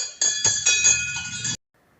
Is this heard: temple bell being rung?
yes